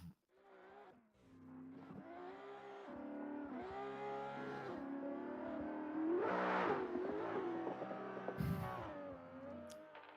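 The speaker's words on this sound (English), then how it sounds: "That engine, all right, so Abramov's engine is so loud" Drift cars at the IVDC Round 3 competition rev their engines hard, a loud, continuous roar that rises and falls with bursts of acceleration and a brief squeal of tires, with no voices.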